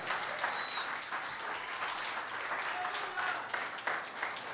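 A church congregation applauds loudly and continuously, a dense wash of many hands clapping throughout with faint voices mixed in.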